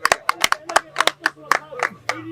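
An audience claps for Ratan Tata in a quick, uneven run of sharp hand claps from a small group, close and loud, with a voice murmuring faintly underneath.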